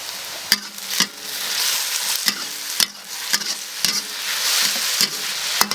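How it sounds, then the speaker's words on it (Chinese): Chili oil and salt stir-fried with sliced vegetables in a wok, a steady loud sizzle broken by sharp spatula scrapes and clanks roughly every half second, no voices. "盐进去， 来一勺的油辣椒一起炒"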